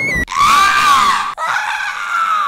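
A girl on the Italian TV show Il Collegio screams loudly and shrilly in two long, wavering bursts with a brief break between them, and no talk is heard.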